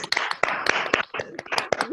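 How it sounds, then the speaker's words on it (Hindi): Several people clap together at once during an online stress-management webinar, producing a brief burst of uneven, overlapping hand claps close to the microphone, mixed with a voice speaking. "तालियां मार सकते हैं इकट्ठे"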